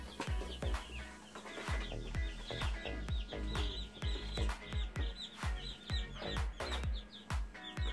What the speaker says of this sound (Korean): 자, 지금 여기 21마리 병아리가 있죠.